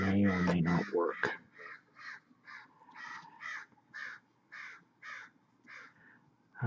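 Crows outside give a steady series of about ten harsh caws at an even rhythm, moderately loud, following a brief louder burst at the start.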